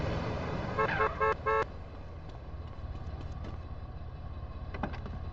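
A car horn in Grand Theft Auto San Andreas toots in a quick burst of several short blasts, followed by a low, steady vehicle engine rumble and a faint later honk.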